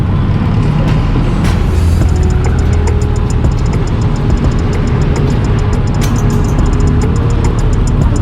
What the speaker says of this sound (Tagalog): Traffic lang.